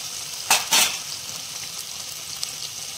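Cumin, turmeric, chilli and cumin powders with ground onion-ginger-garlic paste frying in a pan for ripe banana kofta curry, a steady soft sizzle with two brief louder bursts of stirring near the start, no talk.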